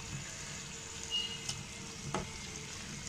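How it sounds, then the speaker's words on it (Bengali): Hilsa fish pieces pan-frying in oil on a tawa while being nudged around: a faint steady sizzle with a few soft scraping touches of the spatula, no voices. "মাছগুলো নেড়ে দিচ্ছি যাতে নিচে লেগে না যায়"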